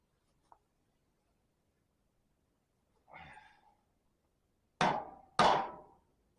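Three sharp metallic hammer blows on a vehicle axle, a faint tap followed by one moderate strike and then two loud, closely spaced impacts near the end, each with a short ringing decay.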